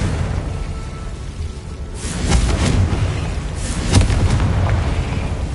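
A Confringo blasting spell in the video game Hogwarts Legacy goes off in two booming bursts, one partway through and a sharper one near the end, over a rumbling low background.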